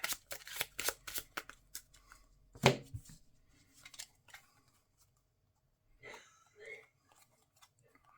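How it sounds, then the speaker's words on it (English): A deck of Marvel Champions cards is riffled and shuffled in quick bursts of crisp flutters and snaps at close range, followed by softer card handling and a brief voice. "And I have to shuffle my deck."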